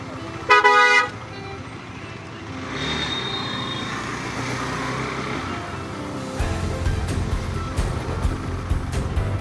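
Car horns honk in a traffic jam backed up at a signal, a loud burst of toots at the start, then a steady din of idling vehicles and distant horn blasts, with more honking and engine noise building toward the end.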